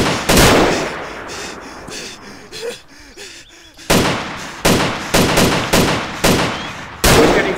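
Sharp, loud bursts of gunfire in a multiplayer shooter game, a cluster of shots early on, then a quieter stretch with faint rumble, followed by a rapid run of close, evenly spaced shots toward the end.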